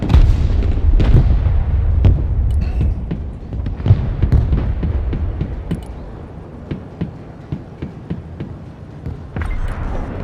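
Sustained weapon fire and artillery in the real-time strategy game Broken Arrow: dense, continuous booms and rapid shots overlapping for the whole stretch, loud and rumbling, with no talk over it.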